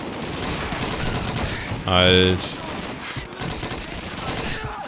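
Gunfire in the World War II shooter game Call of Duty 2, a dense crackle of rifle and machine-gun shots running through the whole stretch, with a brief shouted voice partway through.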